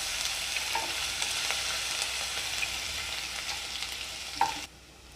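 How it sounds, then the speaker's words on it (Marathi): Cumin seeds and garlic sautéing in a pan until reddish, a soft continuous frying hiss with a few light stirring knocks, fairly quiet, no voices, ending abruptly. "लसूण आपल्याला थोडा लाल होईपर्यंत परतून घ्यायचा आहे।"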